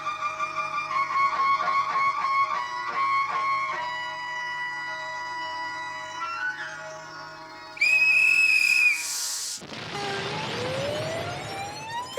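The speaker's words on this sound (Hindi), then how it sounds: "आइंदा ऐसे कान में सीटी बजाइए ना" A whistle is blown right into someone's ear, giving a brief, piercing shrill blast after a run of wavering siren-like tones, followed by a noisy rush of sound.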